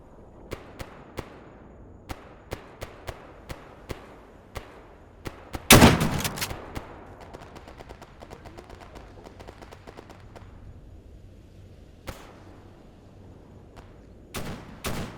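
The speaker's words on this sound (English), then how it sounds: "I'm firing back." Gunfire from the S.T.A.L.K.E.R. Anomaly video game: scattered sharp single shots at irregular intervals, with one loud close burst near the middle followed by a decaying rumble, then a few more distant reports.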